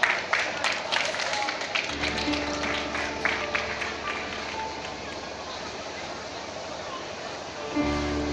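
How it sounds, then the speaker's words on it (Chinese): Audience applause at a youth summer festival concert for a violin performer, a dense burst of clapping that settles into steady, softer clapping, with a low rumble in the hall. "掌声欢迎"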